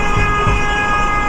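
Car horn honked while driving beneath a toll road overpass in Jamaica, a sustained tonal blare ringing out and echoing against the concrete over steady road rumble.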